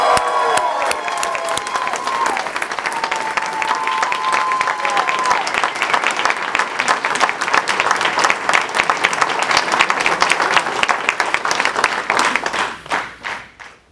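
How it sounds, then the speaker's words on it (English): Warm audience applause for motivational speaker Inky Johnson at a retail company event: a long, loud, dense round of clapping with cheering and a few whistles, swelling slightly before tapering off at the end. "Give him another warm round of applause."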